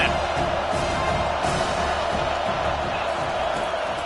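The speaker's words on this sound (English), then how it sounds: "The roar of the crowd trying to fuel this defense to keep them pinned in their own end" Steady, loud stadium roar from a college football video game crowd urging on the defense, a continuous dense wash of cheering with no clear breaks.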